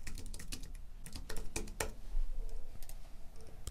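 Fingers tap out a quick burst of keystrokes on a computer keyboard, close and clear, the clicks uneven in rhythm with a few louder strikes and no voice.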